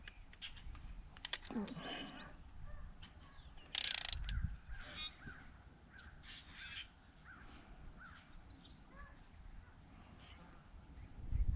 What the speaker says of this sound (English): I'm gonna start torquing these down.